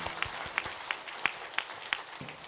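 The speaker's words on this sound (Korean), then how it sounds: "박수로 축복하겠습니다." Church congregation at a Sunday worship service clapping in unison, a slow, steady beat of about eight claps, soft and somewhat distant in a reverberant room.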